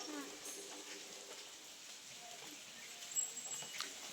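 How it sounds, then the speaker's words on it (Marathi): Steady rain patters in a soft, even hiss throughout, with a few brief brighter drips and faint bird chirps in the background. "चांगलाच पाऊस चालू झाला"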